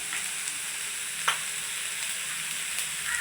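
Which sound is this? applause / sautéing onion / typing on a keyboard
sautéing onion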